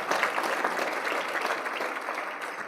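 A crowd at a community address applauds in celebration of the governor, dense sustained clapping with no voices, fading slightly toward the end.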